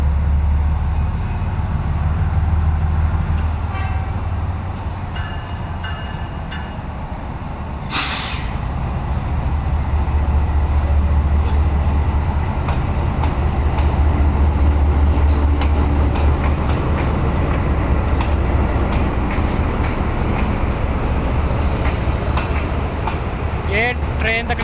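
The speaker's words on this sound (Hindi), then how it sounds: "दोस्तों, ग्रीन लाइन एक्सप्रेस रवाना हो रही हो रेलवे स्टेशन से मारगला रेलवे स्टेशन के लिए।" Green Line Express passenger train departing Lahore railway station, a steady low rumble and engine drone running throughout with a brief hiss of air brakes near the start, fairly loud and close.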